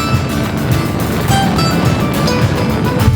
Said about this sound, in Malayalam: ബൈക്കുകളുടെ ബഹളം